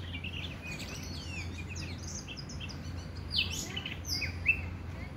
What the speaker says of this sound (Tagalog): Nakikinig ako sa awit ng ibon.